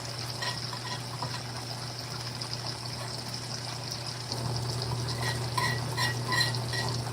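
Running water splashes into a dish being rinsed, a steady close trickle over a constant low hum, growing a little louder and busier toward the end.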